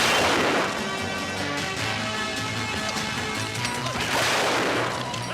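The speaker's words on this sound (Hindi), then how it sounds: "ये तो रियल में गोली चल रहा है" Dense bursts of gunfire crackle and boom continuously, loud and chaotic, with heavy low rumbling throughout.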